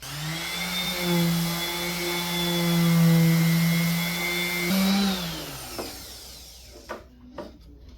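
Orbital sander working on an epoxy resin fireplace mantle gives a steady, loud motor whine with a sanding hiss, then winds down as it is switched off, followed by a few faint knocks.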